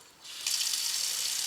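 Water from a tap starts as a faint trickle and then swells into a steady hiss as the tap is opened further, close and continuous.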